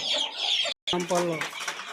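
A brooding country hen clucks in a few close, short bursts, with a brief silent gap partway through.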